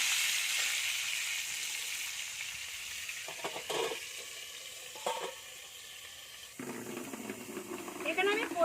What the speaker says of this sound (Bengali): আমার সব পটলগুলো আমাকে দুবার ধরে ভাজতে হবে